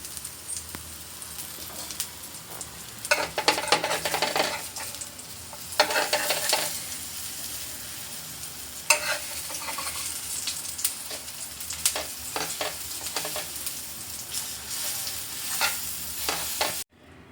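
Masala pudla batter fries on a pan on low heat with oil drizzled around it, a soft continuous sizzle broken by louder crackling bursts and scraping spatula strokes.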